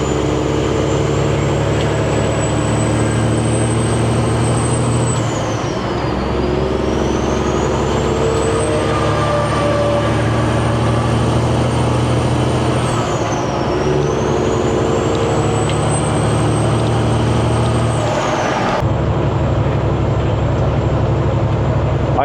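A tractor-trailer truck maneuvers close by with a steady heavy engine drone, while a high whine dips and rises twice before an abrupt shift near the end.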